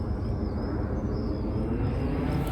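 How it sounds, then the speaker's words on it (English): An easyJet airliner passing overhead near Cardiff Bay on the Wales coast, a steady, distant jet roar sustained under a quiet outdoor background. "looks like an easy jet coming over."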